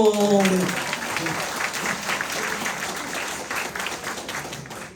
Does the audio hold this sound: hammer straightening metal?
no